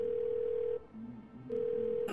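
A telephone line in the video game Twelve Minutes gives a steady single-pitch tone, breaks off briefly and then returns as a call goes through to 911, with a short click at the end.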